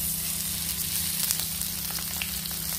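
Fish frying in mustard oil makes a close, steady, even sizzle, with a low hum running under it throughout.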